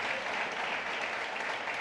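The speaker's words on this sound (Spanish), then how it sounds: "Démosle un aplauso al Señor en el nombre de Jesús" A congregation at a Guatemalan church service claps together in a steady, even wash of applause, fairly close and uninterrupted for a couple of seconds.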